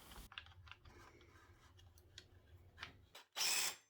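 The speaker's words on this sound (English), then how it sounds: "It took 49 seconds of drilling to do this 1 hole." Sped-up drilling with a twist drill bit, rapid clicking and grinding bursts, ending in a loud high-pitched whine as the bit bites through metal.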